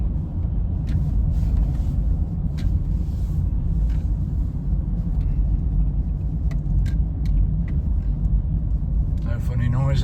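A 2012 Honda Jazz 1.4 i-VTEC automatic rolls slowly around a yard with a low, steady engine and road rumble, plus light interior rattles and clicks, close and continuous.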